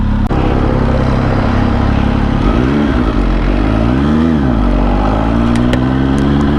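A motorcycle engine running close by at a Korean barbecue night outing, idling and then revving up and down twice in rising and falling sweeps before settling into a steady higher drone, loud and alone.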